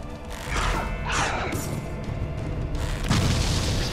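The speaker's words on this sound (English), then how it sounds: "Explosion." Barrels blow up in the Torchlight video game, a loud, dense burst of booming and crashing noise filling the whole stretch with rumbling debris.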